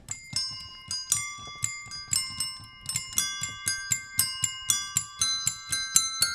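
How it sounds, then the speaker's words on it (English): Chiming bell tones play a short melody, struck one after another in a steady rhythm, each ringing note decaying before the next, clear and fairly close with no voices. "let's close this one off with a little bell song"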